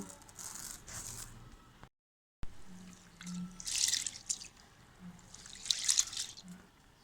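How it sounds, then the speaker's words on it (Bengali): Lentils and rice rinsed in water for a homemade piyaju mix, with soft dripping, trickling and sloshing in uneven bursts, a brief silent gap partway through, and no talking. "এখন আমি ডালটাকে ধুয়ে নেব"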